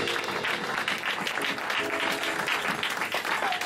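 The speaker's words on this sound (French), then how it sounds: "je voudrais qu'on donne une bonne main d'acclamation à Jésus" A church congregation applauds in praise of Jesus, dense continuous clapping from a crowd that fills the whole stretch at an even level.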